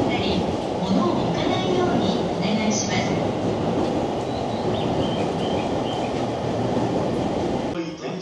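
A train in Tokyo rumbles and clatters steadily close by on a busy street near a capsule hotel, a continuous loud rolling roar with faint voices mixed in.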